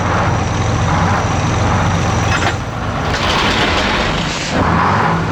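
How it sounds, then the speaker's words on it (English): A heavy tow truck rumbles loudly in a radio advert sound effect, a steady roaring engine drone with a brief hiss of air brakes partway through, close and alone without talk. "This is the sound of the most dreaded vehicle on the road today, the tow truck."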